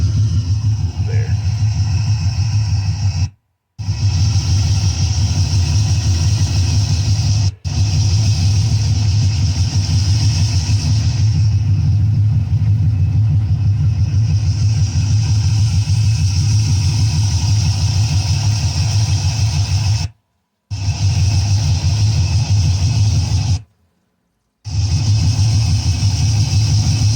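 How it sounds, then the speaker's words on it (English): A 1958 Chevrolet Corvette with a 3-speed and 4-barrel carburetor idles steadily, producing a loud, close, continuous low rumble, broken by a few short dropouts. "So let's listen to the engine here."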